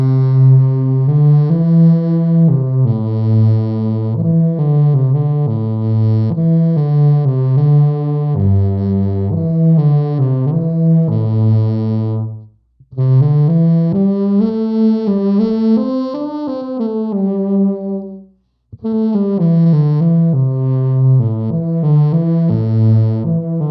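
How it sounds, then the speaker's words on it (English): Bassoon played through a Rainbow Machine chorus effect pedal, a shimmering, wavering melodic line with lush doubled tone, loud and close, pausing twice briefly before resuming. "It's a rainbow machine. I use it for the chorus sound that everybody loves."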